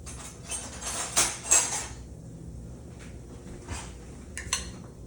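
A metal spoon clinking against a dish while scooping baked beans, a few light scrapes and taps spaced irregularly, close and fairly faint in a quiet kitchen.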